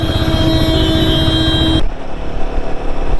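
A Royal Enfield Himalayan 450 motorcycle on a road ride from Bhopal to Ujjain, with a loud, steady engine and wind roar. A high tonal whine cuts out partway through, leaving rougher rumbling noise.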